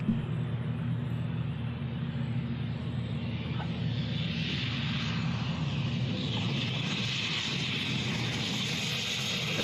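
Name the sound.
airplane in a played landing video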